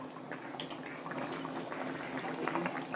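Fish curry boils in a pot, giving a close, continuous bubbling and gurgling with small liquid pops, steady and moderately loud, with no talk.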